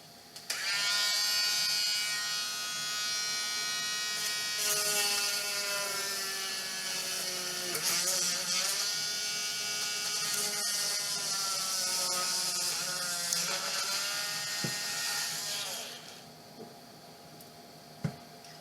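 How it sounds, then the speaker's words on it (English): A Dremel rotary tool whines steadily at close range while cutting into craft material, its pitch dipping and rising as the load on the bit changes, then winding down near the end. No one speaks. "I think we're just going to go in this white part here with the Dremel"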